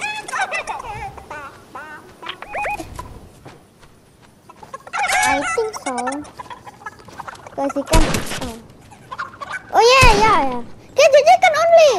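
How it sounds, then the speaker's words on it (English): A chicken in Fortnite clucks and squawks in repeated bursts, loud and close, interleaved with excited player talk, the clucks growing more frequent and shrill toward the end. "Kill the chicken."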